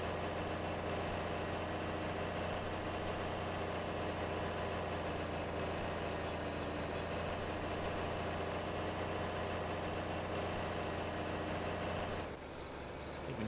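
Tractor engine labouring up a hill in the Farming Simulator video game, a steady loud low drone that holds unbroken for about twelve seconds before cutting off abruptly.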